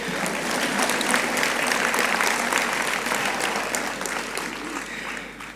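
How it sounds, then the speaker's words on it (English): Sustained applause from a graduation ceremony audience, a dense even wash of many hands clapping steadily for several seconds and easing slightly toward the end, with no voices standing out. "I'd clap that."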